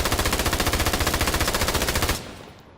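An MG42 machine gun fires in a video game as one loud, unbroken burst of rapid, evenly spaced shots. It stops abruptly and leaves a fading echo.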